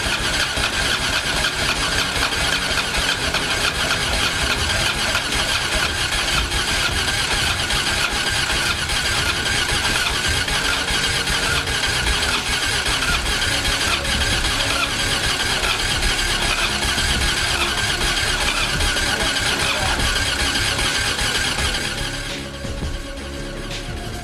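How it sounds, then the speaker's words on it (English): Motorcycle electric starters crank steadily and continuously, comparing engines fitted with S&S Easy Start cams against regular cams. The loud, even grinding whir runs unbroken for over twenty seconds, then cuts out. "The starter cannot turn over anymore."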